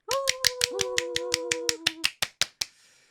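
A short burst of hand claps on a first podcast episode about parenting, about a dozen crisp, evenly spaced claps that slow and fade, with sustained whistle-like tones over the first half.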